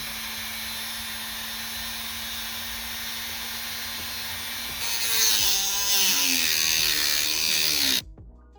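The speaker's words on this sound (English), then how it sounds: "get our drill turned on here" A power drill whines steadily for several seconds, then bites into material with a rougher grinding, rattling sound before cutting off abruptly, during a Ford Focus engine rebuild.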